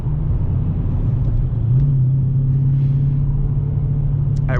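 Dodge Challenger 392 on a highway drive after being shifted into the wrong gear: a loud, steady low engine rumble from inside the car, with a brief change in pitch midway.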